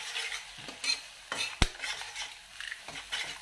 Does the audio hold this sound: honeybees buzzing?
no